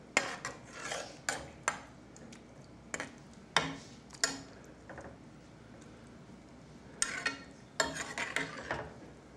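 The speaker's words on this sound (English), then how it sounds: "And I stir this into that." Spoon scraping and clinking in a bowl while mixing Worcestershire sauce into a sauce, a series of sharp, close taps and scrapes separated by quiet pauses, busiest near the end.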